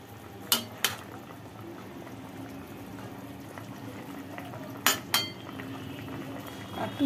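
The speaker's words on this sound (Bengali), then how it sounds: "একটু ফুটুক, একটু পরে নামাবো।" A pot of hilsa fish curry with potato and plantain simmers on the stove in a steady low bubbling boil, broken by a few sharp clinks of utensils against metal.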